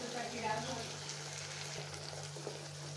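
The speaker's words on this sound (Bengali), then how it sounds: "এবার আমি মশলা কষাতে থাকবো" Ginger paste, turmeric and spices frying in oil for a catfish curry give off a soft, continuous sizzle with faint stirring, close and quiet throughout.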